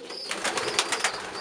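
A pigeon coos at its nest among growing chicks, a run of soft, rhythmic throaty pulses at moderate volume close by, with no voices.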